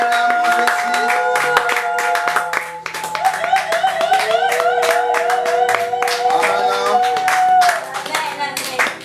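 Church congregation clapping in a steady rhythm together with cheering and singing voices, loud and continuous throughout.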